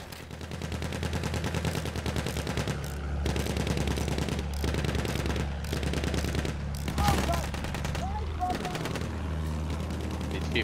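Rapid gunfire from a Battlefield 1 match, with repeated bursts of automatic shots over a constant low battlefield rumble, near and loud, while voices talk over the action.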